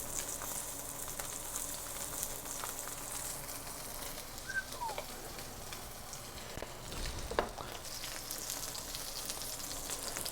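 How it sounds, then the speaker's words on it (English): Butter sizzles steadily in a hot pan for a wagyu steak cook, a constant crackling hiss with a few brief louder pops and clinks. "I've thrown a little butter in the pan"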